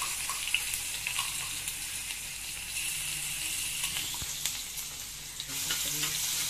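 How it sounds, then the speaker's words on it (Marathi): Cumin seeds, crushed garlic and salt sizzling in hot oil in a pan for a bitter gourd fry, a steady close frying hiss with occasional stirring clinks and a louder burst near the end. "आता आपण या तेलामध्ये सर्वप्रथम 1 चमचा जिरे हे टाकणार आहोत"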